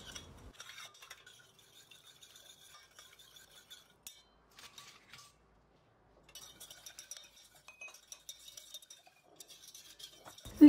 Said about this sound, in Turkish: Tüm malzemeyi karıştıralım.